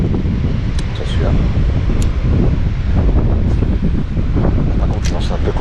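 Wind blows outdoors while someone is fishing, buffeting the microphone in a continuous low roar with small gusty swells, and a few faint clicks sound through it.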